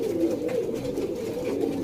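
A pair of high flyer pigeons gives soft, low cooing, steady and close over about two seconds, with no talk.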